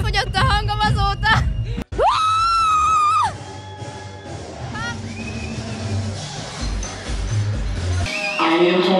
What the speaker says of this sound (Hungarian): És akkor az elmaradatlan sikítás!